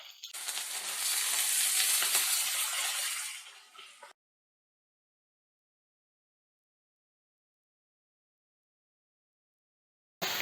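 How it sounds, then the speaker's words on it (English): Fenugreek (methi) leaves are sautéed with ginger garlic paste and onions for methi malai chicken: a steady close sizzle of frying for about four seconds, then silence. "We're going to saute it along with the ginger garlic paste and the onions."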